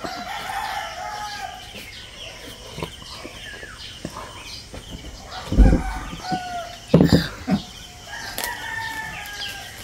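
Chickens on a farm: a rooster crows several drawn-out calls across the clip amid scattered clucking, fairly close, with heavier thumps midway and no talking.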